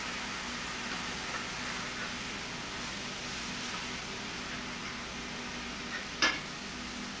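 Shrimp sizzling in a pan for shrimp cacciatore, a steady hissing fry that fills the whole stretch, with one brief metallic clank near the end.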